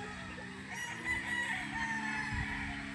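A Golden Boy bloodline gamefowl rooster on a farm crows once, fairly close. The long call rises and holds before trailing off, backed by other fowl clucking and steady farm noise.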